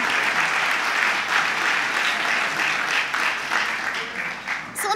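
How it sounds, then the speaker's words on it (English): Sustained applause from a ceremony audience at a hall of fame induction, steady and dense clapping filling the room for several seconds without pause. "It's okay to clap. You can clap."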